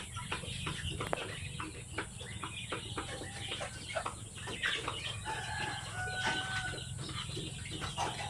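Basilan chickens, including a brooding hen, cluck and call steadily amid farmyard background noise, with short clucks and a few higher drawn-out notes, with no talk.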